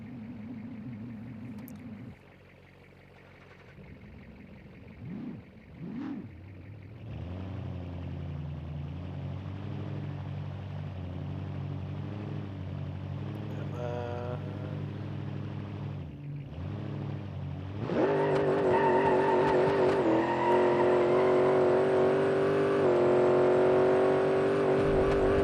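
A car engine in BeamNG.drive, a blown Cornet project build, drones and climbs in pitch as it accelerates, then jumps to a louder, harsher high-revving roar near the end, close and continuous with no talk.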